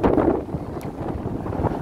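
Steady low wind rumble buffeting the microphone, with no one speaking.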